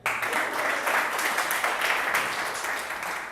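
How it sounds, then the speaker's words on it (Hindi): A stand-up comedy crowd breaks into loud, sustained applause, a dense wash of many hands clapping steadily for a few seconds with no talk over it. "अब जोरदार ताली बजाओ मेरे लिए।"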